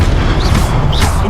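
A Confringo explosion spell bursts in Hogwarts Legacy, a loud, dense boom with crackling debris filling the short moment.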